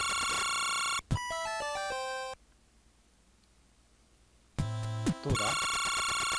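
A buzzer alarm left ringing in a Famicom detective game sounds as loud, steady electronic chiptune tones and stepped beeping patterns, which break off for a quiet stretch and then sound again.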